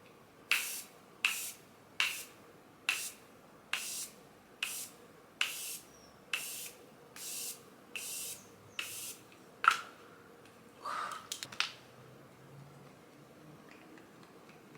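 About a dozen short, crisp hissing bursts of a continuous-mist makeup setting spray at a steady pace, close by, then a few softer uneven puffs; no talking.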